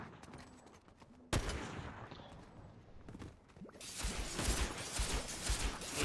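Gunfire in Fortnite during a fight on a bridge: a sudden loud shot followed by repeated bursts of firing that build into a dense, sustained volley with impacts.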